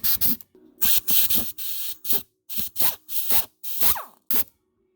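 A rotary tool fitted with an aluminum porting bit grinds in a series of short, sharp bursts, about ten quick pulses separated by brief silences, close and fairly loud.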